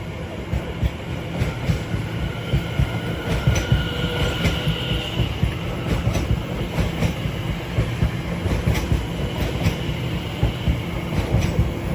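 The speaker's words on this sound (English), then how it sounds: "Incoming now 7 minutes late will be a terminating Elizabeth line service from Heathrow Terminal 5" An Elizabeth line train from Heathrow Terminal 5 arriving at Shenfield station on the Great Eastern Main Line rumbles in steadily, with rhythmic wheel clatter and a faint squeal, close and loud with no talking.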